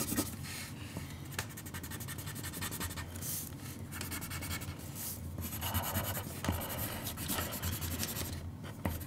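Pencil drawing Pikachu on paper, a continuous close scratching and rubbing of the lead across the sheet in short strokes and longer sweeps, with brief pauses between lines.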